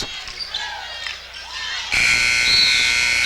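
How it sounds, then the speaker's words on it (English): A buzzer ends a period at a 2004 high school basketball game in a gym. A loud, sustained electronic tone cuts in abruptly and holds steady, with crowd and commentary noise underneath. "They didn't even get a shot off before the buzzer went off"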